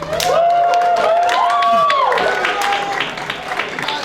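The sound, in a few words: audience cheering and clapping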